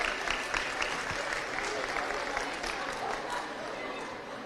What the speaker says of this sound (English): can I get a round of applause for our officials who did a super job here today